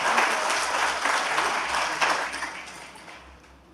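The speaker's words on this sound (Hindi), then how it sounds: "तो इसके लिए उनके लिए एक जोरदार तालियां तो बननी है।" A hall audience at an eye-care campaign event gives a strong round of applause for a welfare committee, dense clapping that gradually thins and fades toward the end.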